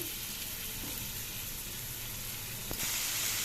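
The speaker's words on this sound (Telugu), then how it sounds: "మనం ఇలాగా మంచిగా కలర్ వచ్చేలా వేయించుకోవాలండి" Small chicken tikka pieces frying in hot oil give a steady, close, dense sizzle with no talking.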